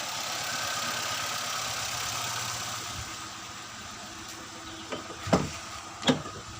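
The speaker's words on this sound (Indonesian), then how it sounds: "kita akan cek dulu untuk RPM-nya apakah dia bisa di stabilan 2000." Daihatsu Xenia 1.3 engine running steadily, a car that stumbles at mid revs and won't idle, held at about 2000 rpm, with a close mechanical hum and a couple of sharp clicks near the end.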